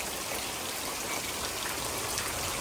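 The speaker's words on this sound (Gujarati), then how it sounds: "હા સરસ વરસાદ આવ્યો" Steady rain falls in a cattle yard where Kankrej cows are kept, a dense even hiss of drops on surfaces, loud and continuous with no talk.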